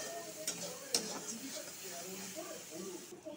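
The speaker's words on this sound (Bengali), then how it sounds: "নুন আর হলুদ দিয়ে একটু ভালো করে ভাজবো।" Potatoes and vegetables frying with salt and turmeric in a pan for a Bengali pui shak curry, a soft steady sizzle with a few sharp spatula scrapes while a person talks over it.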